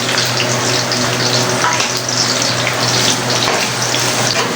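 Onions tipped into a pan of garlic already frying golden brown for masala qeema, giving a steady, close hiss and sizzle with a low hum beneath, no voices.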